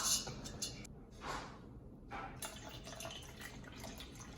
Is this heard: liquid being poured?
yes